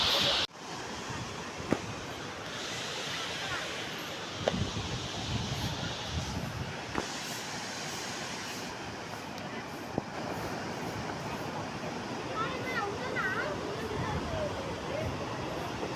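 Water of the Ethipothala waterfall flowing down below, a constant wide rushing wash heard from a distance, with gusts of wind striking the microphone over the steady flow.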